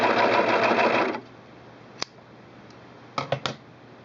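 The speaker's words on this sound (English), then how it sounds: "notice this machine is quite a bit noisier than your regular sewing machine, and that it cuts while it sews" A Singer Pro Finish serger sews and trims fabric with a loud, dense mechanical whir for about a second before stopping, followed by a sharp click and a few quick clacks of the machine being handled.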